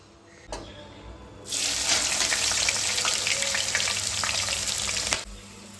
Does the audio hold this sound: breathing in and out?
no